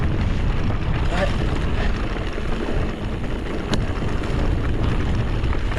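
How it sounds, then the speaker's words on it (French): Wind roars steadily across the microphone on an electric-assisted mountain bike ride through hilly, bramble-covered trails in the Basque country, a loud continuous rush with no talk. "Bah, aujourd'hui aussi, il y a un peu de vent"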